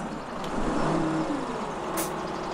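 A Scorpion King vehicle's engine in Farming Simulator 17 fires up with a steady diesel rumble, with a brief air-brake-like hiss near the end.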